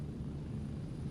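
An aircraft passes by in the Gray Zone Warfare video game, a faint, steady low engine drone that lasts only a moment.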